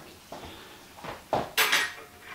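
A cooking pot of beef and bowtie pasta set down on a kitchen stove, a few clanking metal knocks building to a louder scraping clatter, close by with no talk.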